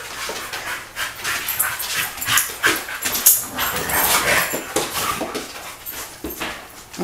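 Dogs romp and scuffle close by, with rapid panting, snuffling, whimpers and the odd short bark over a busy rustle of movement.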